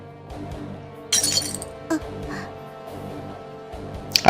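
A dropped object shatters with a bright glassy crash as a visual novel sound effect, a loud burst followed by a smaller clink and a final crack, set over a soft, steady background tone.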